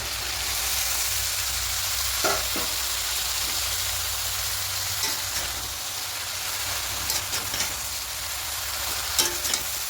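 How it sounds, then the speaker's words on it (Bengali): Chopped bottle gourd drops into a pan of shrimp, and a steady, close sizzle of frying follows throughout, broken by a few soft stirring knocks and scrapes. "এবার যে লাউটা কেটে রেখেছিলাম, সেই লাউটা এখানে দিয়ে দেবো।"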